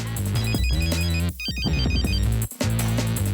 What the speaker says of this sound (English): After a quick hello and right on cue, Jess's phone rings.